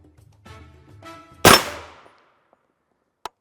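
An M2 armor-piercing rifle round strikes a level IV armor plate with one sharp, loud metallic clang that rings and fades over about half a second. Faint low rumbles come before it, and a small click follows later.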